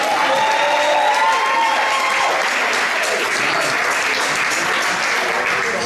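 A crowd at a memorial event in a lounge breaks into loud, sustained applause and cheering that fills the room throughout.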